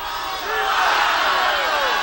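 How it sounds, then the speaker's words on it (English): Studio audience at a Price is Right game show shouting out a number together, a loud crowd roar rising within a couple of seconds. "Crowd is shouting out number 165."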